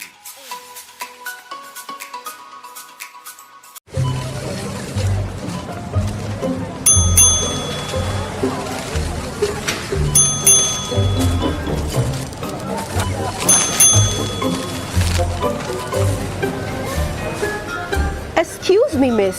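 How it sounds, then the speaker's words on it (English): Store frequent-shopper points chime, bright repeated ding-ding tones recurring at intervals over steady background music and talk. "What's that ding-ding noise?"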